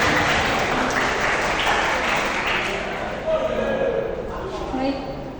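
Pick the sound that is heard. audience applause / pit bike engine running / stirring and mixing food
audience applause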